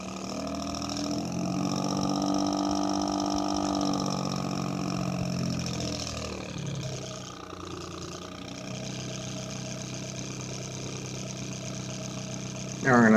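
A desk fan runs with a steady, engine-like drone resembling a two-stroke Detroit Diesel, rising in pitch as it is throttled up and then settling, with a brief louder clatter at the end.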